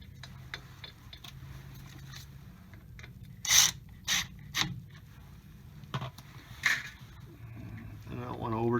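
A ratchet snugs up the bolts on a Ford rear differential cover with a few short, faint clicking and grinding bursts, separated by quiet pauses and light handling noises nearby.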